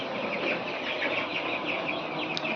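A thousand broiler chicks in a poultry shed make a constant dense murmur of soft cheeping and clucking, steady and unbroken throughout.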